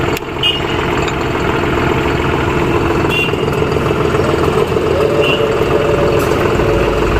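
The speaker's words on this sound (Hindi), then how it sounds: "काफ़ी बढ़िया एक्सीलेटर है, बहुत ही स्मूथ एक्सीलरेशन है इस ट्रैक्टर का।" A 2023 John Deere 5310 CRDI tractor engine runs in eco mode with a loud, steady, close drone that stays even throughout, with no talk.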